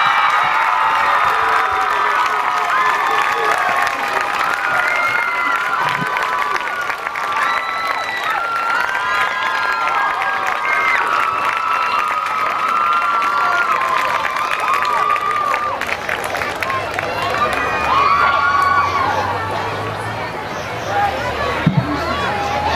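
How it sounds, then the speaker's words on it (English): A large homecoming crowd applauds and cheers for the homecoming court, a steady dense wash of clapping and shouting that holds at full loudness throughout with babble mixed in. "How about another round of applause for the homecoming court?"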